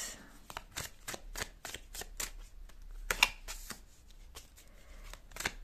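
Close, quiet card handling as tarot cards are shuffled and pulled from the deck, repeated sharp flicking and snapping bursts in an uneven rhythm, heard alone without speech.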